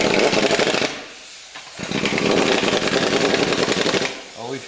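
An impact wrench rattles in rapid hammering bursts on the front brake of a 2003 Ford Expedition, loud and close, with a short pause before it resumes and a brief spoken word at the end.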